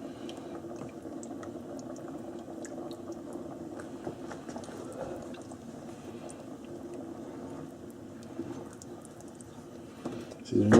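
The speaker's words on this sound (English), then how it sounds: "just gently stir it until it breaks down and dissolves" A warm sauce bubbles and simmers in a pot as it is gently stirred, a steady low liquid churn running throughout with faint background sounds and a louder knock at the very end.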